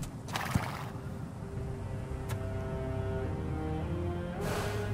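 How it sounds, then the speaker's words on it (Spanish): A horse in Assassin's Creed Origins whinnies in a few bright, harmonic bursts over a steady rumble of hooves and game ambience, with a short sharp clatter midway. "Ahí viene mi caballo."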